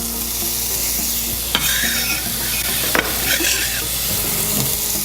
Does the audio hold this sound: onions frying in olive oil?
yes